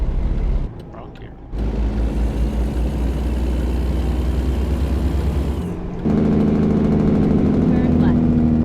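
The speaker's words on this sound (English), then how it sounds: "I like that loud sounding Jake brake." A heavy truck's engine in American Truck Simulator roars loudly under engine braking in low, sustained blasts, cutting off briefly and then returning with a deep, steady drone, with someone talking over parts of it.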